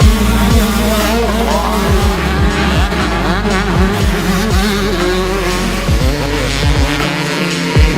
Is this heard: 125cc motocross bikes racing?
yes